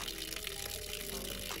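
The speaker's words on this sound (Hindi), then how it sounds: "ये बहुत फ्रेश पानी है" Fresh spring water flowing steadily at a rural spring beside fields in Jubbal, a continuous close, broad rushing splash with no pauses and no talking.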